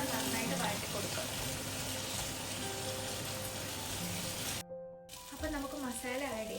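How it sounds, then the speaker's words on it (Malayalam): Tomatoes and green chillies sizzling as they are sautéed in a pan: a loud, continuous hiss that cuts out for a moment, then resumes as a voice is heard briefly. "ഇനി നമുക്ക് തക്കാളി ആഡ് ചെയ്യാം. പച്ചമുളക് അഴിച്ചിട്ടുണ്ട്. ഇനി നമുക്ക് ഒന്നുകൂടെ നന്നായിട്ട് വഴറ്റി കൊടുക്കാം."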